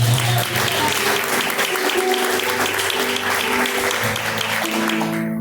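A church congregation applauds in praise of God during a live service, a dense, sustained roar of clapping with a held musical tone beneath it, ending abruptly.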